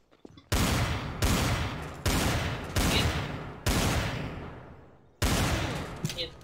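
Gunfire in Garry's Mod, a series of six loud, booming single shots at irregular intervals, each with a long decaying echo tail, near and alone without talk.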